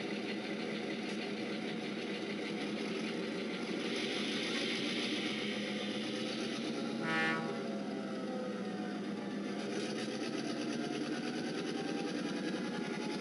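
An N scale diesel locomotive's Kato Sound Box engine winds up, a steady droning hum and rattle with a brief rising surge midway, moderately quiet and continuous, with no voices.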